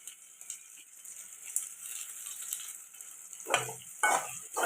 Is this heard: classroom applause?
no